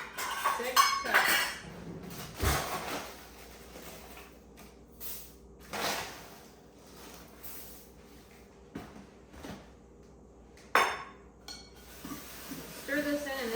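Rice Krispie cereal being stirred into a pot with a spoon, producing irregular scraping and clinking of utensil against cookware, with quiet pauses between strokes and a few sharper knocks.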